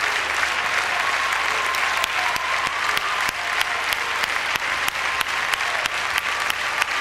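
A large ballroom crowd at a European standard dance championship in Denmark applauds an Italian couple, a dense, steady wash of clapping with scattered sharper claps throughout.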